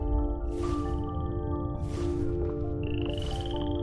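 Frogs croak repeatedly at a pond in the video game Where Winds Meet, bursts of croaking recurring about every second over a steady layer of game ambience and music.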